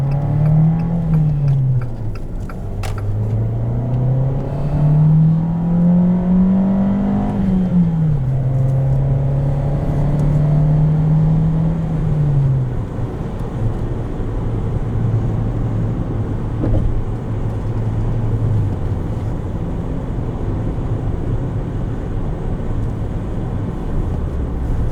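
A 2016 Jeep Renegade Latitude with a manual gearbox cruises at about 60 mph and just over 2,000 RPM. The engine drones steadily and loudly from inside the cabin, with a low tone that rises and dips slightly and carries on unbroken with no talk.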